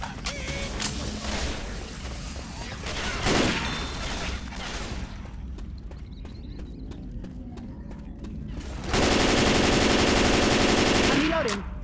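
Rapid weapon fire rattles during Left 4 Dead 2 gameplay. Bursts come through game noise with mechanical clicks and creaks, and a loud dense burst of fire arrives near the end.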